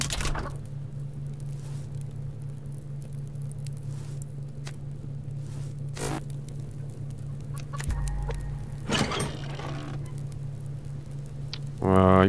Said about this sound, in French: Les poules, je sais pas si elles ont à manger.